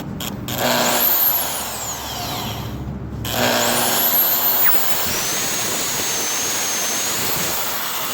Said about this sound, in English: And now we wait for the saw to do the work.